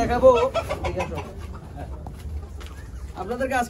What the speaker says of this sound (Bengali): এই এত বড় বড় মুরগি, দেশি মুরগি